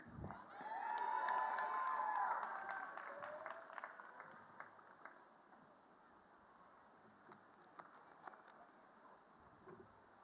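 Commencement audience applauding Elizabethtown College's class of 2025 graduates, a swell of dense clapping that peaks early and then thins into scattered claps, with faint voices underneath.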